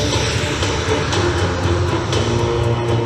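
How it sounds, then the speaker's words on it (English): An RC F4 jet prototype powered by twin King Tech 235 turbine engines, flying at an airshow demo with a loud, steady turbine roar and whine that holds throughout. "This airplane is powered with twin King Tech 235s"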